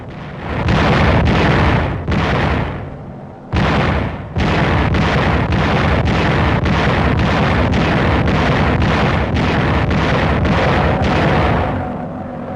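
Anti-aircraft guns blast in a steady run of loud booming bursts against a bomber raid on Leyte airfields and shipping, each report sharp and heavy, spaced about half a second apart after two brief pauses.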